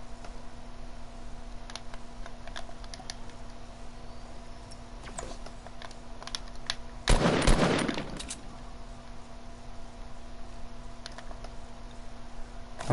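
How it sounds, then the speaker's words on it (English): Rapid gunfire from the video game Fortnite, a dense burst of shots crackling loudly for about a second amid steady game ambience and scattered faint ticks. "How is he shooting at me?"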